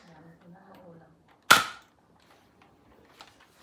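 A toy gun fires a single sharp crack that decays quickly, coming after faint children's chatter and followed by quiet small sounds.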